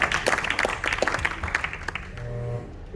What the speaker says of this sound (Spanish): recibamos un fuerte aplauso a Martín Rico, por favor